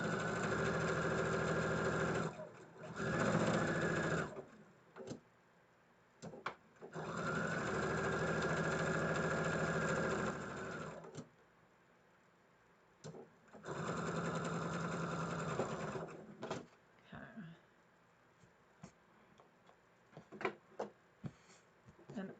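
Sewing machine stitching fabric strips onto a quilt block, running in several bursts of steady whirring a few seconds each, separated by pauses with small clicks and handling noises.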